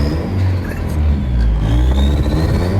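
A twin-turbo Honda Civic engine pulls hard in first gear, a loud, steady rising roar with turbo whir close by, filling the whole stretch with no talk over it.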